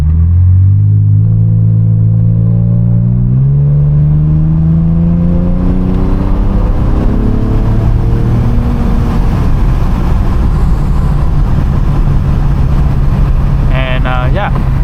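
A 2021-or-newer Lexus IS 350 fitted with an Apexi exhaust accelerates hard, its engine note climbing steadily, breaking briefly at a gear change, then rising again into a loud, rough roar that stays close and continuous throughout.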